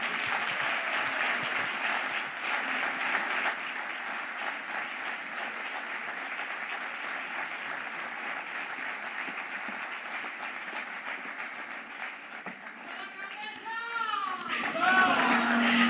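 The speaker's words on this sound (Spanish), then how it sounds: "Un fuerte aplauso." A crowd at the 125th anniversary event of the FSA PSOE in Asturias applauds steadily for several seconds, a dense even wash of clapping that fades as a voice begins speaking at the end.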